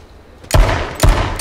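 Two loud, sharp gunshots about half a second apart in the battle royale game H1Z1, each with a short ringing tail over quiet background.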